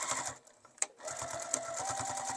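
A sewing machine stitches a seam across a tote bag in rapid, even bursts, close and clear, with a brief pause mid-run before the motor picks up again.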